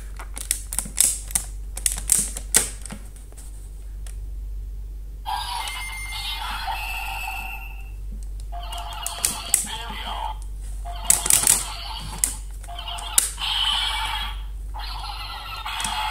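A Bandai DX Celebro toy from a kaiju medal set firing its special attack effects: clicky button and mechanism sounds, then bursts of bright electronic sound effects and recorded voice lines from the toy's speaker over a low hum, with some talking.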